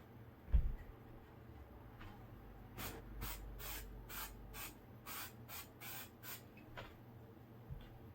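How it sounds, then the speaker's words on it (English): Spray glue hisses onto padding in a series of about eight quick bursts, close and fairly quiet, with a faint bump beforehand. "take our spray glue and just do a very light coating over the padding"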